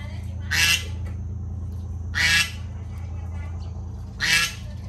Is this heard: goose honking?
yes